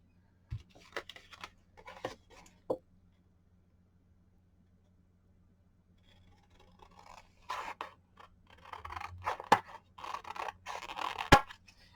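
Scissors cut through old Christmas cards at a desk, a few isolated snips at first, then after a pause a denser run of crisp cuts and paper scraping, close and clear.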